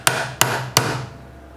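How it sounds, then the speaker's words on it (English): Three sharp, evenly spaced hammer strikes ring out close and loud, driving a front roll pin out of a Palmetto State Armory Dagger pistol frame while a Timney Alpha trigger is installed, each blow followed by a short metallic decay. "So we're going to have to use the hammer."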